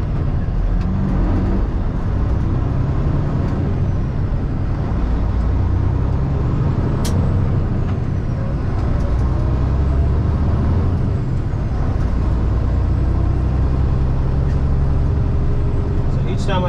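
A truck with a 10-speed transmission pulls away from a stop on an incline in third gear, its diesel engine droning loud and steady for the whole stretch amid road noise, with a brief air-brake hiss partway through.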